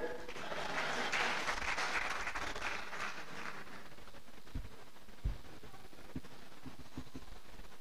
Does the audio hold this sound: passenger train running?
no